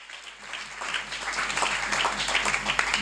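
A church congregation at a deliverance service in Mont-Ngafula applauds the word of God, steady clapping from many hands swelling and filling the room, with a voice speaking faintly beneath.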